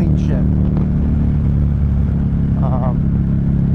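A motorcycle with a Buelltooth quickshifter runs loud and steady close by, its engine droning throughout, with faint voice-like sound briefly over it.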